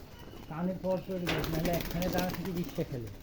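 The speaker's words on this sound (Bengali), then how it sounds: "অনেক কবুতর এখানে দর্শক দেখতে পাচ্ছেন" Domestic pigeons kept for hand-flying contests coo in soft, repeated low throaty phrases close by, with a voice talking over them throughout.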